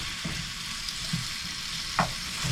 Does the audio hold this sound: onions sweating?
yes